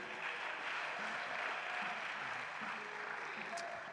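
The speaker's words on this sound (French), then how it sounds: "Acclame Jésus" A church congregation at a worship service applauds, a dense, steady wash of clapping from many hands that fills the room and holds an even level throughout, with faint voices mixed in.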